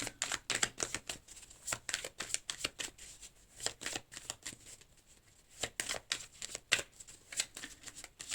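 Tarot cards being shuffled and drawn in a quiet room, a rapid close series of crisp riffling flicks and slaps, pausing briefly midway before the shuffling resumes, with no talking.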